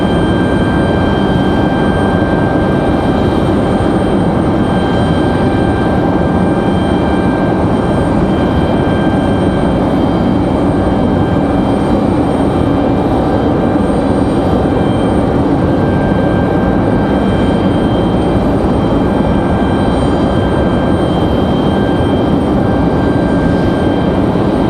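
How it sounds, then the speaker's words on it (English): Southwest airliner arriving at Raleigh-Durham International, a loud continuous engine roar with a steady high whine running throughout, sustained without pause and free of talk. "Got another Southwest arrival."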